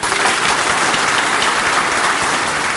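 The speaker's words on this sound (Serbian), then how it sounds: "Velikim aplauzom pozdravljen je Nebojša Stefanović" A crowd at an SNS political rally in Vranje, Serbia, applauds with dense, steady clapping that stays loud and unbroken from start to finish.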